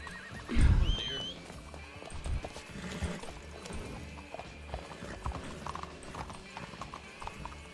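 Horse in the Red Dead roleplay game neighing loudly near the start, with hoof clip-clops and scattered game sounds around it; people talk over parts of it.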